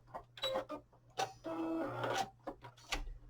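A sewing machine runs in short bursts and longer stretches of stitching along a cotton tote bag seam, close and clear, with pauses between runs and a low hum underneath.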